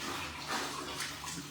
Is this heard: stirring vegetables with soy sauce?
no